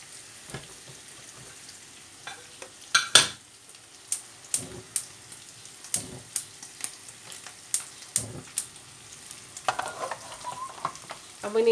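Aubergines fry in olive oil in a pan, a light sizzle broken by repeated sharp crackles and pops at an irregular rhythm, close by, with no voices.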